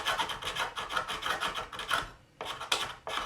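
A Lexan RC crawler body, a Pro-Line Cliffhanger for an SCX24, being ground and cut with a rotary tool, giving quiet rhythmic rasping strokes in short bursts with a brief pause, close and alone.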